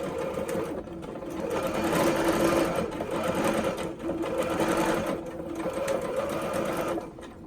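A sewing machine stitching the 3/8 inch shoulder seams of a Love Notions Cadence dress, running steadily and close up for the whole stretch with a continuous motor whir and rapid needle chatter, barely pausing, no talking.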